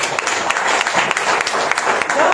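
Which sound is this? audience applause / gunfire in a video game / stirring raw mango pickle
audience applause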